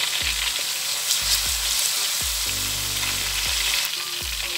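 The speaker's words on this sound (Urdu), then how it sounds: "اب اس کو اچھے سے بھونیں گے پیاز جنجر اینڈ گارلی کو" Onion, ginger and garlic frying in a pan for rajma, a steady soft sizzle under a regular series of low knocks from stirring, about one each second.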